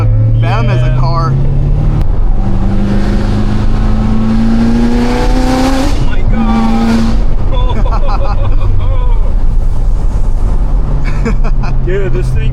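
An 800-horsepower C7 Corvette Z06 accelerates hard through canyon roads, its engine roaring loudly with pitch climbing through gear shifts. The sound is heard from inside the car, and a person exclaims over the engine noise.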